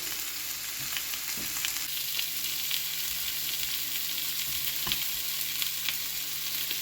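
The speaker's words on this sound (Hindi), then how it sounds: "और एक साइड पे ये टमाटर हल्का सा इनको भी फ्राई करेंगे।" Tomatoes frying in a pan for a lamb neck chop mutton stew, a steady close sizzle with soft scattered pops and light stirring scrapes, no voices.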